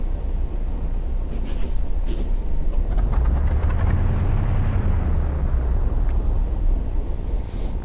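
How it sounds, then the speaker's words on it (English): A simulated Douglas DC-3 piston engine starts up in the X-Plane 11 flight simulator: a few clicks and sputters, then a deep rumbling roar that swells and holds steadily, loud and close. "So let's get ready to start the left engine."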